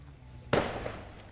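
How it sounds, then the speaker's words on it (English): A sudden sharp explosion burst in a video game, a single loud crack that bursts out and then trails off in a fading rumble, alone without talk. "the second explosion"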